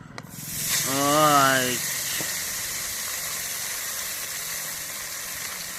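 Fresh fish hits hot oil in a home kitchen pan with a sharp burst of sizzling that swells, then settles into a steady loud hiss. A brief whistle-like squeal rises near the start.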